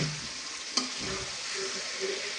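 Chicken and potatoes being stir-fried in a spice masala, with a close crackling sizzle and one sharp scrape of the spatula early on, no talking.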